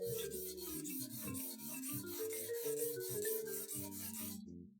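220-grit sandpaper rubs back and forth on a wooden shamisen bachi in quick, even strokes, a soft rhythmic rasp repeating about ten times before stopping.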